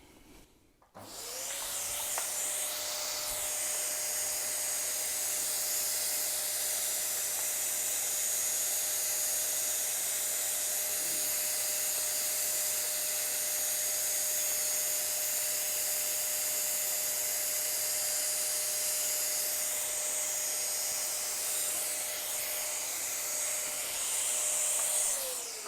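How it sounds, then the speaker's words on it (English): A vacuum runs steadily and loudly for the whole stretch, tidying loose ballast along the edges of model railway track laid on 3mm cork, with a constant whine and faint rubbing as it passes over the grit. "we'll turn the vacuum back on"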